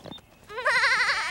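A cartoon lamb gives a single clear, wavering bleat, close and loud, after a brief quiet lead-in.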